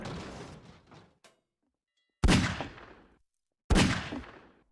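Gunfire in the video game Garry's Mod: a burst of rapid shots, then two loud separate shots with a sharp attack and a short decaying tail, close and alone with no talk.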